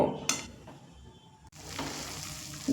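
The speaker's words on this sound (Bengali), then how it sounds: "এইবার এইভাবে নেড়ে নেড়ে একটা পুর রেডি করে নেব" Milk kheer filling being stirred in a pan: a soft, continuous scraping with a gentle sizzle, close and moderately quiet, broken by a brief pause midway.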